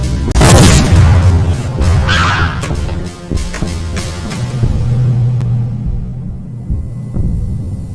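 Grenades explode in Metal Gear Solid 2: Sons of Liberty Substance. A loud blast opens, then a few more booms and a low rumble roll on before fading to quiet.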